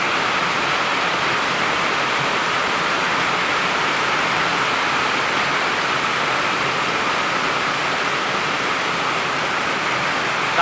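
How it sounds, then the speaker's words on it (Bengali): Heavy monsoon rain pours down steadily in Malaysia, a dense, loud and unbroken hiss close by with no other sounds above it. "বৃষ্টি পড়ার সাউন্ড অনেক পড়তেছে।"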